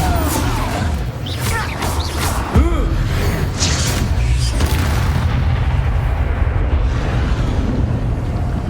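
A Depulso spell blast in Hogwarts Legacy hits as a loud booming burst, layered into dense, continuous game noise with rumbling effects and swooshes.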